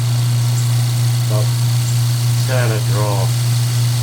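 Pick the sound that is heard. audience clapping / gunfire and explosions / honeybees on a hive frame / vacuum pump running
vacuum pump running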